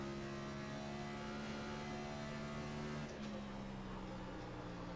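Race car engine held at full throttle in iRacing, a NASCAR Next Gen car lapping Rockingham, giving a steady, loud, sustained drone with constant harmonic tone and a slight shift in pitch near the end.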